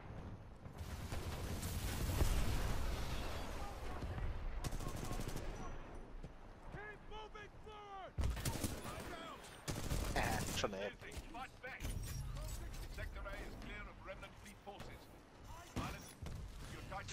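Gunfire and explosive combat noise from the video game Titanfall 2 fill the scene in dense, continuous bursts, while a voice talks over it now and then.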